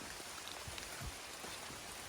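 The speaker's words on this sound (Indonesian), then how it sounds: "ini hujan" Rain falls steadily on a mountain trail at night on the way up Gunung Kawi, a soft continuous hiss with scattered drop patters close by and no talk.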